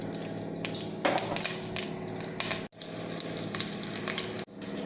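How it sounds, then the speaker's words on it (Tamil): Chana dal, dried chillies and curry leaves fry in hot oil as a tempering, giving a steady close crackling sizzle with small pops and spits, briefly cut off twice. "நல்லா பொரிஞ்சிருச்சு. கடலைப்பருப்பும் செவந்து வந்துருச்சு."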